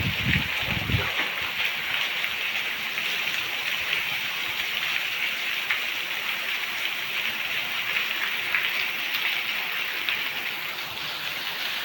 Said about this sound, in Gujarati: વરસાદ આવી ગયો ફૂલ।